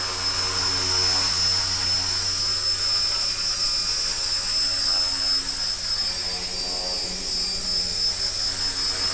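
A Walkera Master CP radio-controlled helicopter hovering close by, its electric motor and rotor blades producing a loud, steady high-pitched whine with a continuous buzzing hum that holds nearly constant throughout.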